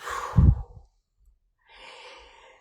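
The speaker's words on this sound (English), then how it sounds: "Deep breath in, a long breath out." A deep inhale and long exhale during a relaxation and meditation exercise, with a close, heavy breath first, then a brief silence and a softer, airy breath out.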